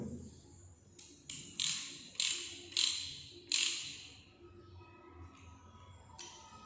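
A ratchet socket wrench works a spark plug socket in a series of sharp clicking bursts, about six ratcheting strokes with pauses between, close and clear.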